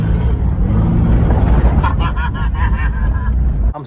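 Rat rod Chevy hot rod on air bags driving, a loud rough engine and road roar mixed with wind buffeting, with some rattling and whirring in the middle.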